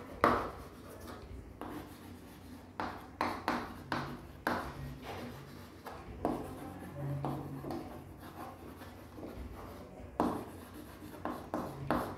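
Pen or marker writing notes during a biology lecture: a string of short scratchy strokes and taps with small pauses between words, close and fairly quiet.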